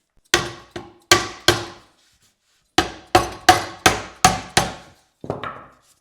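Sharp, ringing blows from a small hammer strike one at a time at close range, fitting a windowsill, coming in two clusters separated by a short pause, each tap decaying quickly.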